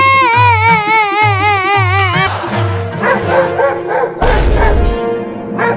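Several sharp, loud dog barks in a rapid rhythmic burst, heard close, followed by whimpering yips and a brief noisy thump near the end, with no talk.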